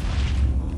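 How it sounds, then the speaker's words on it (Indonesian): A single deep, heavy boom of a Minecraft explosion rumbles through the low end, loud and close, with no voices over it. "Gue mendengar ada suara ledakan, guys."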